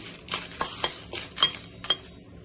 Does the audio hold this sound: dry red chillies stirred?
yes